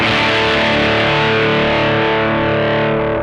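A single open electric guitar chord through a hand-built Mosky distortion pedal, gain slightly before noon, rings out loud and sustained, fuzzy and thick, then cuts off sharply at the end.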